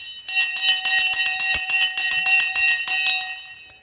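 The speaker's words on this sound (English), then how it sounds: "Let's ring the bell." Bell struck repeatedly in a fast, loud, ringing series, bright metallic tones overlapping and sustaining, with no talk over it.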